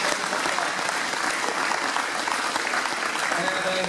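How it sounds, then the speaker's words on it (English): An audience at a provincial election candidates' debate in Renfrew County, Ontario, claps in dense, steady applause that lasts the whole stretch, loud and even, with some voices mixed in. "Again, a round of applause for all the candidates for coming this evening."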